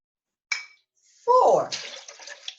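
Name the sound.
water poured into a jug with squash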